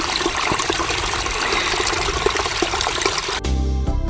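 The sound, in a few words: fetching water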